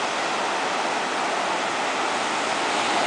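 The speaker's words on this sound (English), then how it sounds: "This is the Caribbean Sea." Caribbean Sea surf at Playa Negra, a black sand beach in Puerto Viejo, Costa Rica, gives a continuous, broad wash of breaking waves, steady and close, with no voices.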